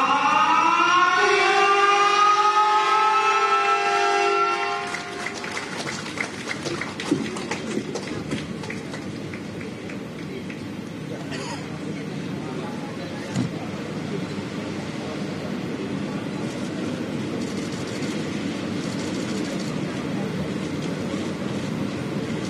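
A Jabodetabek LRT light rail train at Cawang station sounds a rising, siren-like tone at first, then a steady rumble of running wheels and rail noise carries on for the rest.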